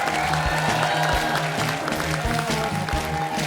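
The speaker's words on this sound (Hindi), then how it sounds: "वो हाथ छोड़ के तालियां बजा सकते हैं" A studio audience applauds at a Kapil Sharma comedy show, with continuous crowd clapping over a loud, rhythmic backing music track.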